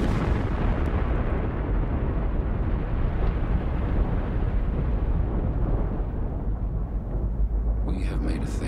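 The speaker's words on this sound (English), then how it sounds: "it would create the biggest explosion ever seen." The Shrimp hydrogen bomb test explosion rumbles as a long, heavy, sustained roar with deep low-end weight, rolling on without pause before a faint higher disturbance near the end.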